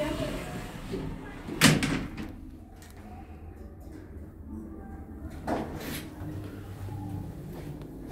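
Lift doors on a 2000 P&D lift, modernised in 2013, at Stratford station run shut, with a sharp thud near the start and a second softer clunk later over low machinery hum and quiet background voices.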